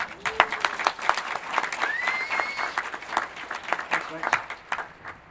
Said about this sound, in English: Can we have a round of applause, please, for Michael